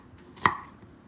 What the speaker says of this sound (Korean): 양파 반개 채 썰어주세요.